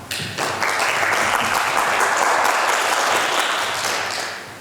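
An audience at a youth center review event breaks into applause, a sudden swell of many people clapping that holds loud and steady, then slowly fades toward the end.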